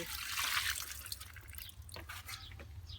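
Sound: watering plant cuttings, water dripping

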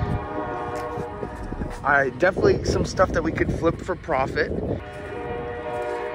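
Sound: train horn sounding near a flea market

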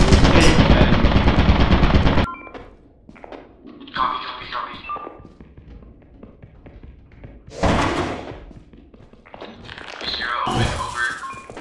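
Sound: turret firing gunfire in a video game

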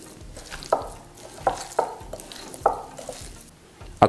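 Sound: stirring meat with paprika, garlic, pepper and salt

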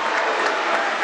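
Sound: audience applause at a handball match

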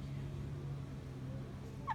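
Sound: bird following people, begging for food

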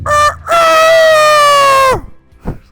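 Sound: actor imitating rooster crowing in a play

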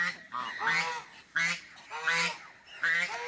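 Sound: goose honking

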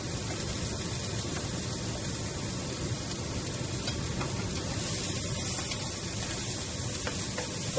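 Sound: stir-frying dried shrimp and cured meats for sticky rice

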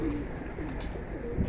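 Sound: pigeons cooing

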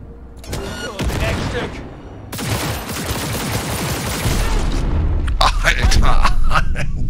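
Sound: gunfire in the video game Cyberpunk 2077

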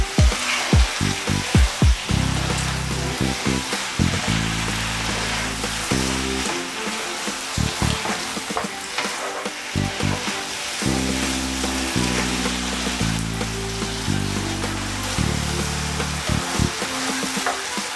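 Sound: spaghetti stir fry sizzling in pan

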